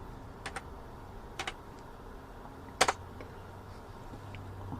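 Scattered light keystrokes on a computer keyboard come in small bursts of two or three clicks, quiet and close, with a low room hiss between them.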